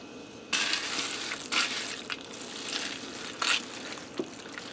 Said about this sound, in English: I'm going to add in a pound of raw elbow macaroni. And I'm going to stir that in there.